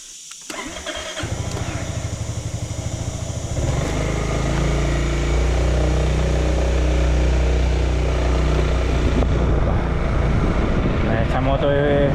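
A motorcycle engine fires up and settles into a steady, loud, close running drone with a vibrating low rumble that carries on unbroken for the rest of the stretch, with no talk over it.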